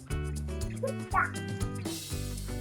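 A dog barks and yips a few times in a children's animal program, the bark standing out over continuous background music, with a short whimpering note near the middle.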